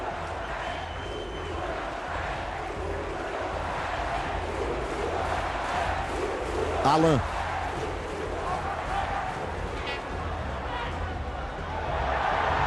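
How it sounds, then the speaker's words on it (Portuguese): Vasco supporters roar and chant in a packed stadium during a 2011 Campeonato Carioca match against Olaria, a dense sustained crowd swell under excited commentary, with a whistle-like rise partway through. "Claro que a torcida do Vasco está comemorando porque muda o confronto"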